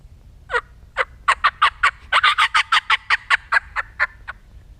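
A hand-operated turkey call imitates a hen's fly-down cackle with a rapid, sporadic string of about fifteen sharp, loud clucks. They bunch faster in the middle and trail off at the end.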